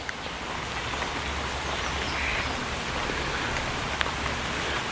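Rain falls steadily over an aviary at Animal Kingdom, a soft, even hiss that stays faint and continuous, with no voices and only a tiny tick near the end.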